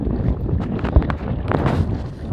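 Gusty wind buffeting the microphone out on a lake while perch fishing on a hot summer day, a rough rumbling rush with faint knocks, and no talking.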